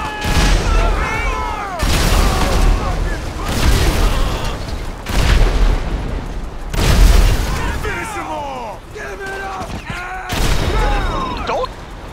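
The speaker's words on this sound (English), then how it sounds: "Now you just need to go mental and blow everything up." Repeated heavy explosions from a Khanjali tank attack in a GTA game, loud booming blasts every couple of seconds with crackling debris and high whistling tails, over a constant rumble of battle noise.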